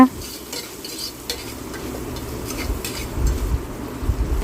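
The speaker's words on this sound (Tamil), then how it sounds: "வெங்காயத்தை நல்லா வதக்கி விட்ருங்க" Onions sautéing with salt in a pan for tomato pulao, a close, steady frying hiss with scraping spoon stirs throughout, no voices.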